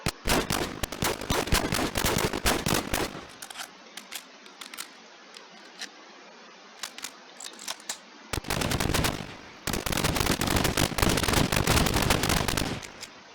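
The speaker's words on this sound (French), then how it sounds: "Ah ouais, ça c'est une mitrailleuse légère." Light machine gun in the video game NationsGlory firing rapid sustained bursts of loud, sharp shots, with a quieter gap in the middle before two more long bursts.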